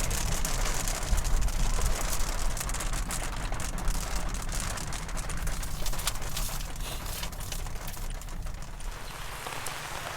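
Steady heavy rain pours down continuously, a dense, even hiss of drops on surfaces that fills the scene with no pauses.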